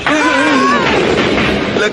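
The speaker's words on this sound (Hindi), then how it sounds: "अरे पटाखों की आवाज" Firecrackers crackle and burst loudly and continuously, mixed with tonal music or voices in a dense, noisy scene.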